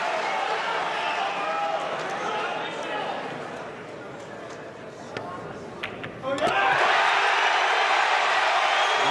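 A pool hall crowd at the 2022 Mosconi Cup roars steadily, dips briefly, then swells loudly again near the end, with voices talking over the noise.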